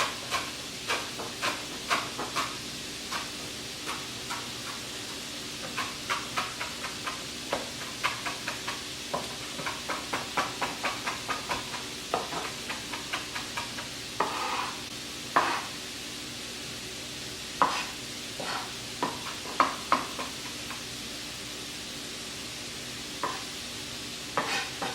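Ground beef fries quietly in a pan as a spatula chops and stirs it, making soft intermittent scraping taps over a faint background sizzle. No one speaks.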